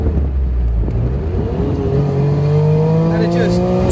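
A Suzuki Cappuccino accelerates hard after a downshift into second gear, its engine note climbing steadily in pitch and growing louder, heard from inside the car with a voice over part of it.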